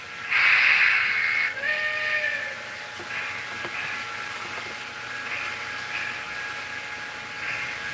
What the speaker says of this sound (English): So I'm gonna let the steam sounds entertain a little bit.